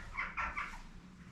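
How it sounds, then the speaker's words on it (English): Birds calling outside Ballycopeland Windmill in Millisle on a January day: a few short, faint chirps in the first second, each one separate, over a quiet indoor background. "Can you hear the birds outside?"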